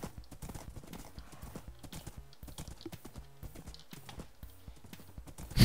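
Horse hooves clip-clop in a steady, quick rhythm while riding in the Minecraft video game, close and moderately loud, with a brief louder burst at the very end.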